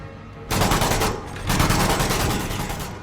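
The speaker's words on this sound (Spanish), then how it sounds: "Fijaros ahora en la metralleta. En el fuego, cuando disparo," Rapid bursts of automatic gunfire from a machine gun in the video game Half-Life: Alyx, dense and loud, in two sustained volleys with a brief pause between them.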